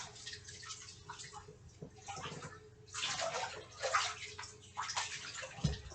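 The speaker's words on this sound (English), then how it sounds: "Thankful this hot water, take this bath." Hot water runs and sloshes in a bathtub during a bath, a continuous splashing rush that swells and surges with movement, close and fairly loud, with no talking.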